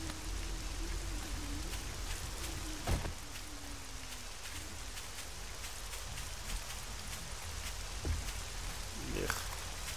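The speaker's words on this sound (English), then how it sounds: "I would need to get out of this damnable rain" Steady rain falling in the zombie survival game Drop Dead, a constant soft hiss of drops covering the whole stretch, with a few faint distant creature calls underneath.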